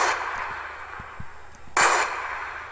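A single shot from an assault rifle in a modded video game, one sharp loud crack with a brief echoing tail, preceded by faint clicks and handling sounds.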